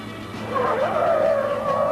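Tires squeal under hard braking as a 1971 Buick Riviera with a 455 V8 and automatic transmission stops from 30 mph, a loud rising screech lasting about a second and a half.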